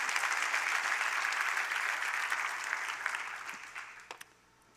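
A church congregation applauding for the king during a sermon, broad dense clapping that stays strong and even, then thins to a few scattered claps before dying away near the end.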